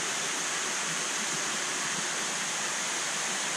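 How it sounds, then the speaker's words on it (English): Water is pumped continuously into a fish exhibit and overflows out of it, making a steady, dense rushing wash that stays loud and unchanging from start to finish. "It's just pumped in and then it overflows out 24/7, 365."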